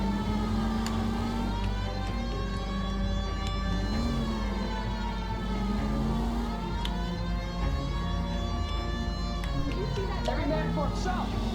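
A police car siren in the game L.A. Noire wails steadily through the whole stretch, rising and falling in long sweeps over a constant engine rumble.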